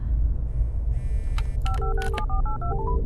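A quick series of electronic phone keypad tones in a horror video game, evenly spaced beeps of varying pitch, over a steady low background hum.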